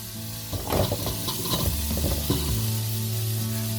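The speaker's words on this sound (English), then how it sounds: "Give it a good stir." Carrot and coriander soup base stirred in a hot pan, with a spoon scraping and shuffling through sizzling vegetables for a couple of seconds before the pan settles into a steady, close frying hiss.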